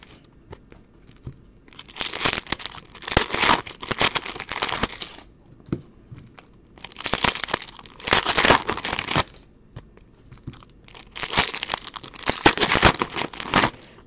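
Plastic wrapping on sports card boxes crinkles and tears loudly up close, in three long bursts of crackling separated by quieter pauses with only faint handling.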